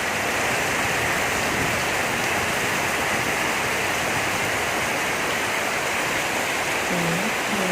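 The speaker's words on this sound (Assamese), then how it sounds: "ইয়াৰ অলপ সময় পিছত বৰষুণ দিলে, ভাবিলোঁ সেই বৰষুণৰ দৃশ্য আপোনালোককো অকণমান দেখুৱাই দিওঁ" Heavy rain falls steadily on a rainy day, a dense, loud, unbroken hiss without pauses, with a faint tone rising briefly near the end and no talk.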